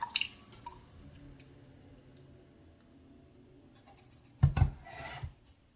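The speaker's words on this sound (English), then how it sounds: "we're going to get our onion rings / strings here out of the buttermilk. You're going to want to drain it off." Onion strings are lifted out of buttermilk and drained for a burger recipe. A few faint drips come first, then a short burst of close, wet squishing and dripping near the end, with no talking.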